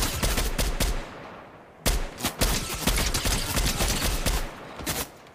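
An MK rifle in the Fortnite video game fires rapid bursts of gunfire with short pauses between the volleys. It is loud and close, and nobody speaks.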